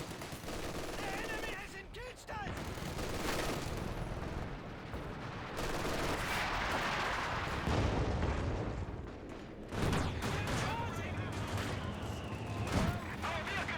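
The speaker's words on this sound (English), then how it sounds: "M1AT gun firing away. Paratroopers firing." Dense gunfire and heavy artillery booms in a Company of Heroes 2 match, with M1 anti-tank gun shots and paratrooper rifle fire crackling in overlapping bursts, loud and continuous, under a voice talking.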